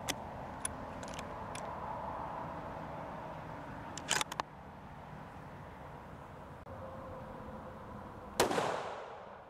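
A CVA Cascade XT rifle firing while being sighted in outdoors, with a sharp distant-sounding crack early on, a cluster of reports around the middle and a louder shot near the end that rings out into a fading tail.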